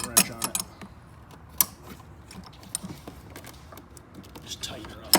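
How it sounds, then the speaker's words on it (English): Flip wrench ratcheting as it snugs a bolt during a hydroboost replacement on a 2006 LBZ Duramax, giving brief clicking bursts and scattered metallic ticks at close range with low background noise. "Put my flip wrench on it."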